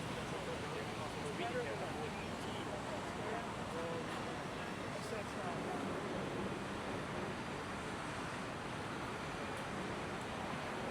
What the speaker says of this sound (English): I don't think it's a good place to surf at the moment with this crazy waves.